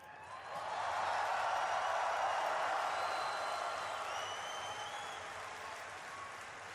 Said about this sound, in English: I want everyone here to give a big cheer to all of your friends watching at home.